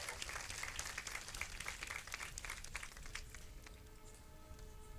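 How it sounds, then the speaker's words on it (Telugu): An audience at a Christian festival gathering claps, a dense patter of hands that fades toward the end as a faint tone emerges, moderately distant and fairly quiet. "గట్టిగా చప్పట్లు కొట్టి కృతజ్ఞతలు తెలియజేస్తాం"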